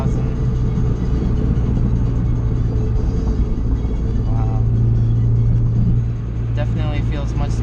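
Car engine held at high RPM around 4,000 while cruising near 80 after a MFactory 4.928 final drive install, a loud steady drone and road rumble throughout, with brief whining chirps near the end.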